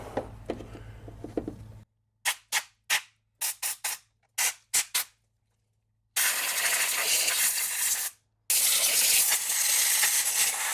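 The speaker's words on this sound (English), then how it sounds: "So I'm going to hit it with the air compressor and let's see what happens" An air compressor nozzle blasts debris from under the cowl of a salvaged BMW F30 engine bay: a few short choppy hissing bursts, then two long, loud sustained rushes of air close up.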